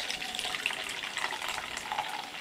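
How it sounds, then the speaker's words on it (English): Mountain Dew poured into glassware, a continuous light splashing and fizzing stream, fairly close and alone with no talk. "now we're going to get out the Bachelor's Finest glassware and pour some of this"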